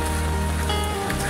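Rain falls steadily outdoors, a dense, even patter close by for a brief moment.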